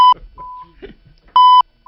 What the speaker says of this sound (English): I'll bleep it. I'll beep it.